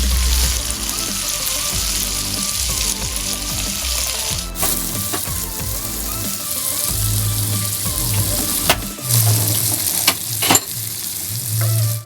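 Curry leaf oil goes into a hot pan while cooking prawns masala puttu. A loud, steady frying sizzle continues close by, broken by clattering stirring and scraping sounds.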